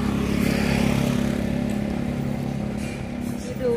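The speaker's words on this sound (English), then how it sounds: "There's a Falang on a motorbike there." A motorbike ridden by a foreign man passes on a street in Nong Khai, Thailand, its engine droning steadily at close range and slowly fading.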